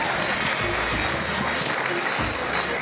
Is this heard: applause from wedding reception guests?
yes